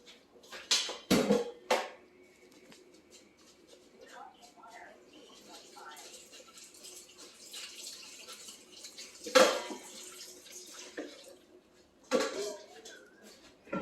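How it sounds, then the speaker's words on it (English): Strained tomatoes are rinsed under a running kitchen tap, with a soft water hiss punctuated by clanks of pots and utensils, while a voice speaks intermittently. "I'm going to also give it another little rinse"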